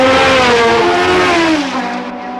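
Pedro Rodriguez's BRM V12 race car roars loudly past at Spa, a high, sustained engine howl whose pitch sags as it pulls away.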